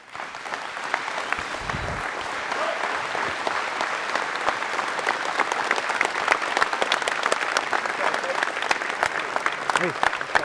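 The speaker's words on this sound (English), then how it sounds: "One more round of applause for all of our presenters." Sustained applause from the audience at a youth football coaches clinic, honoring the presenters: dense, continuous clapping at strong volume for about ten seconds, with a short low voice early on.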